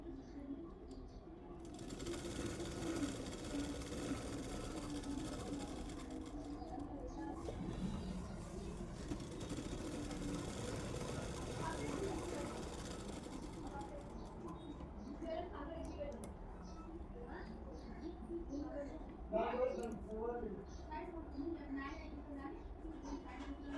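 A sewing machine runs in long bursts stitching a blouse, its rapid mechanical whir near and steady, pausing in places while someone talks over and between the stitching.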